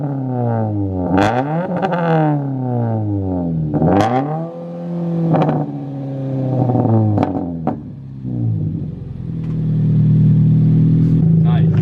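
A Subaru BRZ with a catless front pipe revs repeatedly, each rise in pitch climbing sharply then dropping back, loud and close, before settling into a rough, droning idle.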